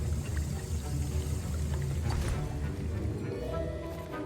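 A potion being stirred in a cauldron in the Hogwarts Legacy video game, heard as a steady, close liquid churning and sloshing that runs without break, with a faint bubbling shimmer on top.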